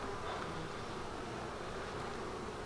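Honey bees swarm over a hive frame during an open hive inspection, a steady, faint, close buzzing hum with no talk.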